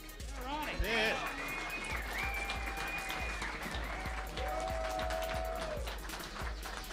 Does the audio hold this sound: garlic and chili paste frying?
no